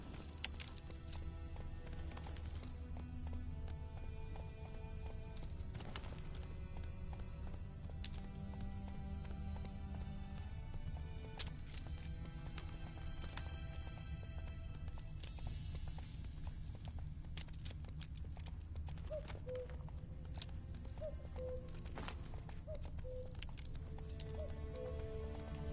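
Roach, the horse in The Witcher: Wild Hunt, gallops with a steady rapid clip-clop of hooves over looping game music, with a few brief snorts or whinnies later on.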